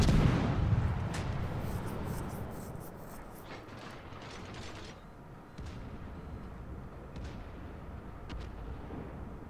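Naval gun fire in World of Warships from a British tier 2 destroyer, Medea, a heavy boom at the start that decays into distant rumbling with scattered fainter reports.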